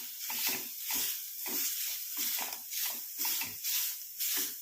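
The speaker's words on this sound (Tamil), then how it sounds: "இப்போ இது 2ஐயும் நல்லா வந்து ஃப்ரை பண்ணிக்கலாம்" Grated coconut frying in a pan with other ingredients, giving a steady hiss and crackle that swells and fades in repeated bursts, as if stirred, close by with no talk.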